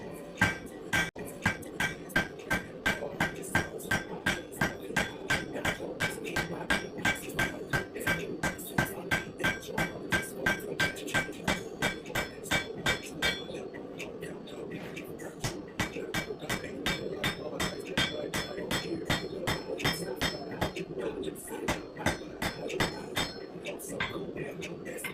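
Rapid, steady metallic hammer blows ring against an anvil while forging a small Damascus kukri blade from scrap, striking in a fast continuous rhythm close up, with clinking overtones throughout.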